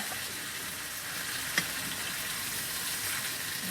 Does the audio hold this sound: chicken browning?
yes